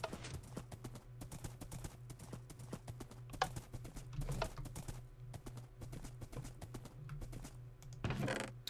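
Minecraft horse hooves clip-clop in a steady, quick rhythm as a dark brown horse with white legs is ridden at speed, the regular hoofbeats fairly faint over a low background hum with a slightly louder burst near the end.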